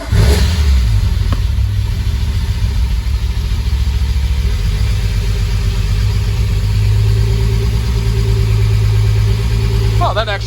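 An Acura Legend Coupe that has sat for over three years cranks and fires with no intake fitted, then runs with a loud, steady, rough engine drone close up throughout.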